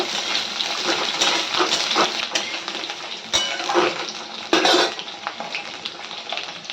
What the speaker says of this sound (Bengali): এবারে ভালো করে একটু ভেজে নেব কারণ কড়াইটা প্রচুর তেতে গেছে